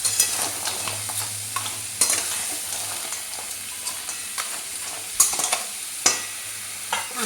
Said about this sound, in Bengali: নাড়াচাড়া করে একটু ভেজে নিতে হবে।